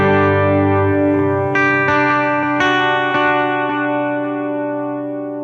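An electric guitar runs through an amp plugin with delay and reverb, a sustained distorted chord followed by several picked notes, each trailing into echoing repeats as the sound slowly fades.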